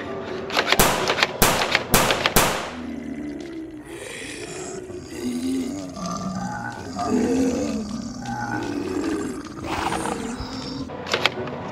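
A werewolf monster lets out a loud, drawn-out growling roar with rising and falling snarls, preceded by several sharp bangs like gunshots amid a Halloween zombie showdown.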